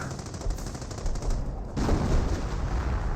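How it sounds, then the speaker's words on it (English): A 25-pounder artillery barrage in the game Company of Heroes rumbles as a dense, continuous roll of distant blasts and crackling gunfire, loud and unbroken for a few seconds. "We do have a artillery barrage right here, likely from a 25 pounder."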